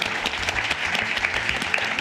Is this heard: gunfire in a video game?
no